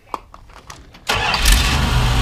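A 1971 Dodge D200 Custom Camper Special pickup truck cranks briefly in a few short bursts, then its engine catches with a sudden loud roar and settles into a steady, close rumbling idle.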